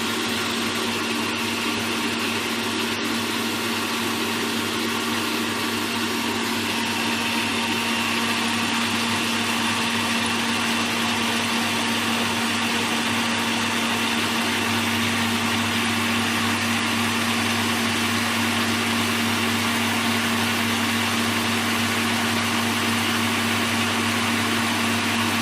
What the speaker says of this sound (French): On continue de battre jusqu'à refroidissement de la cuve.